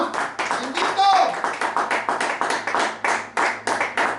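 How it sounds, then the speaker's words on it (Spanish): A church congregation claps steadily in a dense, loud, rhythmic wash of applause, with voices mixed in underneath. "Pueden darle un aplauso al Señor."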